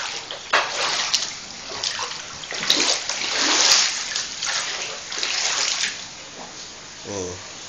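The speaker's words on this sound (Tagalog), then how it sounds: "Tuloy-tuloy pa rin ang agos ng tubig," Monsoon floodwater in a flooded street, flowing with a steady rush and broken splashes, moderately loud and close throughout, with a short burst near the end.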